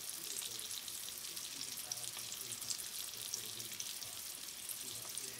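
Flounder fillets frying in a pan, giving a continuous soft, even sizzle close by with no talk over it.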